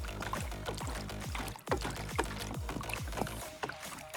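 Brake fluid poured into a car's brake reservoir in Car Mechanic Simulator 2026, a close, gurgling stream of glugging liquid with repeated bubbly pulses, briefly interrupted and then resuming.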